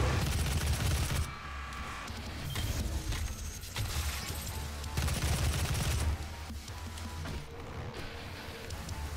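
Gunfire in the Doom video game roars in sustained, dense bursts of rapid shots and heavy impacts, loud and close, with short shifts in intensity and no voice over it.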